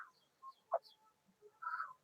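A few soft, scattered clucks and short bird calls, quiet and somewhat distant, with gaps of near silence between them.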